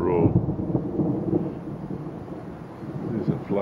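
Low rolling thunder rumbles on through a storm outdoors in a Finnish garden, a long continuous roar that swells, eases and builds again, loud and close with wind noise on the microphone.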